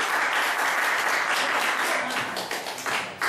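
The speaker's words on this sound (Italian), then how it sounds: "Facciamo un applauso." An audience at an Italian music broadcast bursts into sustained, dense applause that stays loud throughout and thins slightly toward the end.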